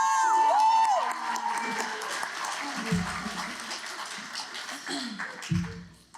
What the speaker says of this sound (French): Un main d'applaudissement pour Mamilou!